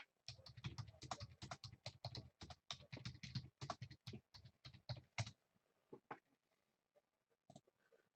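Fast, dense typing on a computer keyboard, a flurry of close clicking keystrokes for about five seconds that then slows to a few scattered taps in a quiet room.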